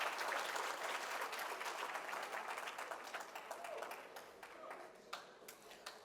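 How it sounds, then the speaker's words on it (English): An audience at a government service excellence conference and awards ceremony in Jamaica applauds, steady dense clapping that stays loud at first and gradually thins toward the end. "Keep your applause going"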